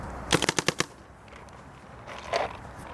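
A Planet Eclipse Ego LV 1.6 paintball marker fires a rapid string of five or six sharp, close shots, followed later by a fainter, muffled burst.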